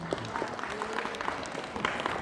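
An audience at a farewell gathering for a Ramadan religious study session applauds steadily, dense overlapping claps with a faint murmur of voices underneath, continuous and fairly close throughout.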